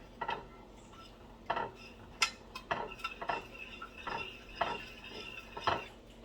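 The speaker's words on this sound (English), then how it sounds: "I put the wine in here. I'm going to stir." Utensil stirring shrimp scampi in a pan after wine is added, giving repeated scraping clinks of metal against the pan in irregular bursts, close and fairly quiet.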